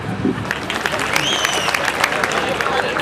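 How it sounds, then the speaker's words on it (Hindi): An audience at an outdoor poetry and stand-up comedy gathering claps steadily in a dense, continuous burst of applause, with a few voices and cheers mixed into the crowd noise. "ताली बजाओ।"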